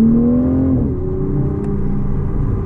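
A Toyota GR Supra with a 3.0L turbo engine accelerates while its ZF 8-speed gearbox shifts in manual mode. A loud, close engine drone drops sharply in pitch at a quick upshift, then holds steady.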